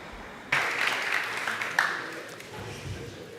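A conference audience breaks into applause for a road-safety speaker, a sudden dense burst that swells and then fades gradually, heard alone without talking.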